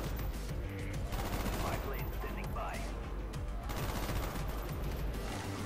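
Continuous gunfire in Call of Duty: Black Ops as rounds pierce walls, heavy overlapping bursts with occasional crashing impacts, loud and unbroken across the whole stretch with dense game noise.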